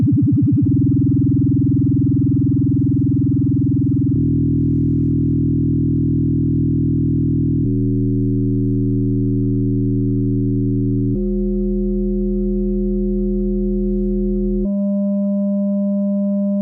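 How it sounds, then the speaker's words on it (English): Steady 200 Hz sine carrier tone whose vibrato rate steps faster in five stages, a constant loud electronic drone that grows buzzier and rougher with each step, alone without voices. "this was the same 200 hertz carrier the whole time, so the same note. All we were doing was changing how fast vibrato goes."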